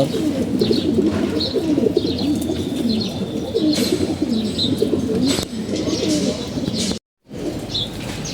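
Pigeons in a home loft coo and murmur continuously with occasional chirps and a brief flutter of wings, a dense close chorus with one short break near the end.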